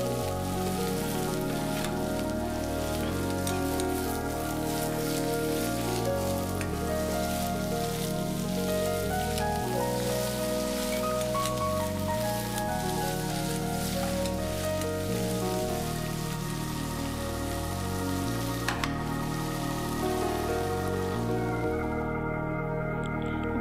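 Mustard seeds, spices, sliced onions and green chillies sizzle and spatter steadily in hot sesame oil, a dense continuous frying hiss with crackles, close and loud throughout with no talk.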